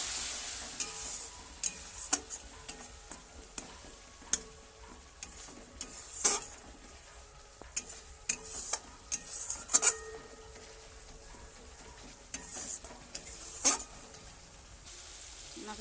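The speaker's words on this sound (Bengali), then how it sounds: "মশলা কষার জন্য একটু জল দিয়ে দিলাম।" Spice paste with chilli powder and a splash of water sautéing in a pan, a low bubbling sizzle beneath repeated metal spatula scrapes and clanks against the pan, near and fairly quiet, with no speech.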